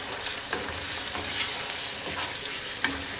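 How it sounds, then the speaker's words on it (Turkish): Egg being stirred with sliced sucuk in a hot frying pan, a loud, dense, continuous sizzle with soft scraping from the utensil, close up and without talk. "Sonra ben böyle çorba karıştır gibi karıştırıyorum yumurtaya."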